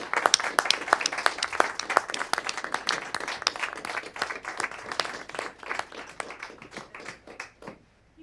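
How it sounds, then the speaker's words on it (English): Applause at a city council meeting, a crowd clapping briskly and steadily for about seven seconds before tapering off to silence at the end. "Please join me in a round of applause to celebrate both Corporal Hanley and Officer Paz"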